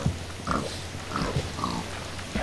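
Pig in the Minecraft video game giving short repeated grunts, about four soft snorts spaced across the moment, fairly quiet and close.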